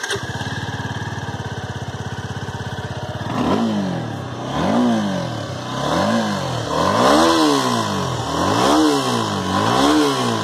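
A Suzuki Gixxer SF 250 BS6 motorcycle engine cranks with a rapid starter whir, catches and settles into a steady idle, then its exhaust revs up and down several times in loud, rising and falling blips, recorded close.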